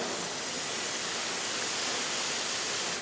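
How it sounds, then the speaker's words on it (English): A steady, broad hiss of water rinses the lower tray of a Wilfley table, a constant rushing spray that holds level for the full few seconds. "we rinse off the lower tray."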